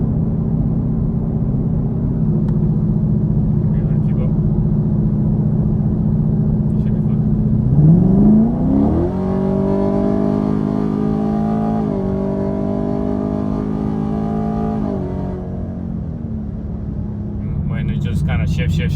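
A tuned 2021 Chevrolet Camaro with a 10-speed automatic idles with a steady low rumble, then accelerates with rising engine tones and stepped shifts before settling into a steadier drone.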